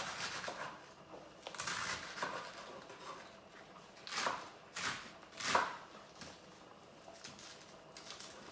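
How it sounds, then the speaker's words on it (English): A knife slices a cabbage into pieces for cabbage and noodles (halusky), in a series of crisp irregular crunching cuts on a board. A few strokes come out louder, and no one talks. "I'll continue to slice it and cut it into pieces"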